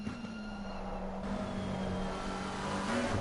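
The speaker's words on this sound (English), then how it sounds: "the McLaren did not sound at all settled over those curves" A McLaren GT3 race car on the Nürburgring Nordschleife in Assetto Corsa Competizione, its engine note holding a steady tone and dipping briefly as it runs unsettled over curves, moderately loud.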